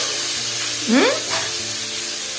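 Pumpkin curry frying in a pan at home, a steady sizzle with a soft stirring swell in the middle and no talk.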